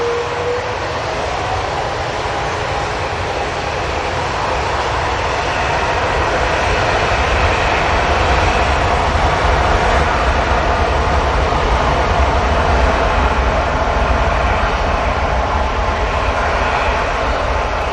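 A Virgin Atlantic airliner takes off at Manchester Airport, its jet engines a loud, steady, broadband roar that holds and slightly builds for the whole stretch, with no talk over it.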